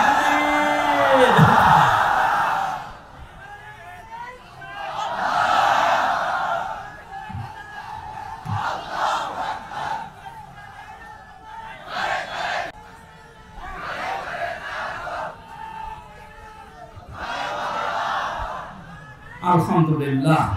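A large crowd at a Bangladeshi Islamic waz gathering shouts takbir in loud repeated unison calls, answering a preacher's call in alternating waves of leader and massed voices, echoing and close.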